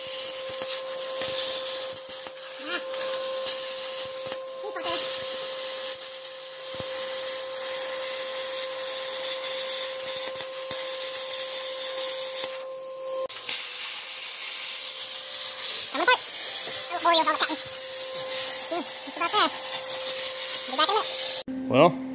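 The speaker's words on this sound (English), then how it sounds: "We're getting the plasma cutter ready to go, and she'll be blown a half in no time." A plasma cutter slices through the steel bed of a 1965 Dodge Sweptline pickup, making a steady, loud hiss with a constant whine. Brief scraping and popping breaks the hiss, and a voice can be heard near the end.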